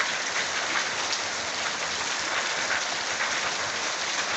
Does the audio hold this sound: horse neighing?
no